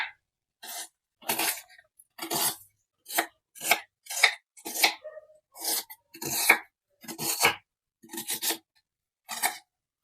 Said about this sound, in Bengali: পেঁয়াজটা একটু ছোট ছোট করে কাটবো।